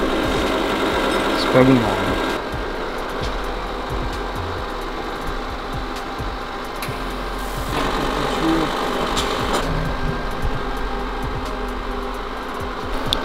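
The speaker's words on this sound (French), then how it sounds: "On est soudé sur la rampe d'injection." Welding on a car's fuel injection rail makes a continuous close buzzing crackle that runs through the whole stretch with brief pauses, while a person speaks briefly over it.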